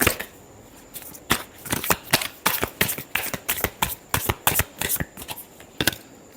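Tarot cards being riffle-shuffled up close, a quick run of crisp, papery flutters and snaps in an irregular rhythm with no voices.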